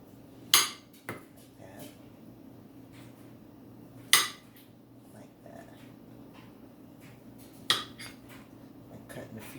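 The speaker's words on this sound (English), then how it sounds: "I cut it about a 1/4 inch thick." A knife slices through food on a cutting board, giving three sharp, separate knocks spaced a few seconds apart over a low, steady room hum.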